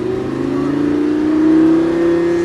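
A Lamborghini Gallardo accelerates hard on a track, its engine note climbing steadily in a smooth rising roar that grows louder toward the middle, heard close and alone.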